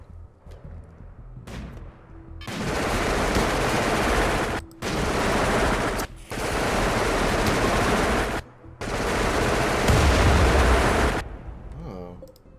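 Sustained bursts of automatic turret gunfire from the Rimworld video game, loud and near, fired in four long rattling volleys with short gaps between them.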